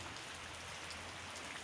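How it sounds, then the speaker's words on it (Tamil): Steady rain falls without pause in a residential area during a prolonged spell of seasonal monsoon rain, a soft, even hiss of drops on surfaces heard at a distance, with no voices. "நம்ம ஏரியாவில் சரியான மழை நேரத்துலேருந்து மாறி மாறி மாறி மழை வந்து ஒரே சீராக பெஞ்சு கொண்டிருக்கிற நைட்டும் பகலுமாக."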